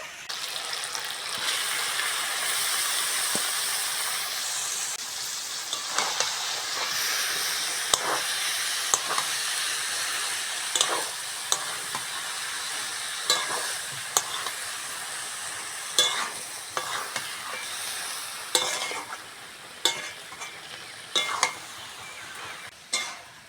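Banana flower and boiled potato stir-fried with spices in a pan give a steady sizzle and hiss, broken by repeated scraping stirs and taps of the spatula that grow sharper toward the end.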